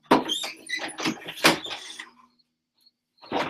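A closet door is handled and closed indoors, with a run of close knocking and sliding bursts followed by a brief quiet gap and one last short thud.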